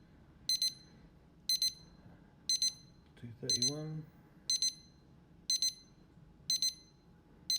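A smoker's temperature alarm gives short, sharp electronic beep pairs at a steady interval of roughly a second, with a brief spoken word in the middle.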